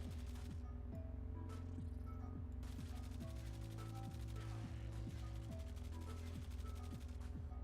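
A Flux Rifle in a video game fires continuously at Corpus enemies, a dense, loud stream of rapid energy-weapon shots with humming tones and no pauses.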